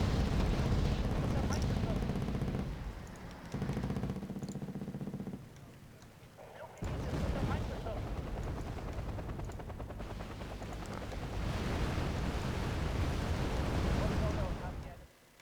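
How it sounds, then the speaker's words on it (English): Bombs and gunfire in the military strategy game Wargame: Airland Battle, loud dense bursts of explosions and rattling fire with a brief lull midway, continuous and close. "So we dropped a bunch of bombs on those guys over there"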